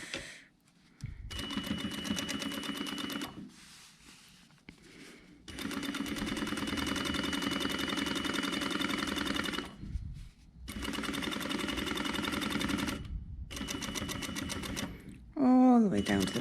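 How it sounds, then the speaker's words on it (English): A sewing machine stitches through several fabric layers along a folded edge while making a scissor holder, running in long steady bursts of rapid rhythmic needle clatter separated by brief pauses, close and clear. "I'm going to stitch close to this edge through all the layers for our second"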